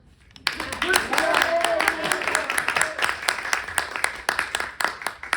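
Audience applause fills a talk event with actors on stage in Santa Fe, a dense, steady clapping crowd that starts suddenly after a short quiet lead-in and holds loud before gradually thinning out.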